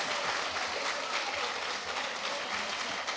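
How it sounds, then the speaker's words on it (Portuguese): Audience applause for marathon runner Vanderlei Cordeiro de Lima, a dense, even wash of many hands clapping, moderately loud and sustained throughout without any voices. "Salva de palmas, pessoal, por favor"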